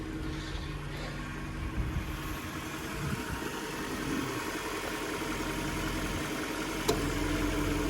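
A Jaguar XK8 coupe's 4.2 V8 idling with a smooth, steady low rumble, close by and even throughout, with one faint click near the end.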